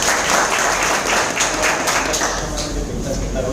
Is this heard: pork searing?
no